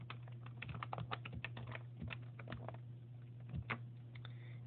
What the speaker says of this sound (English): we can even type the DNS address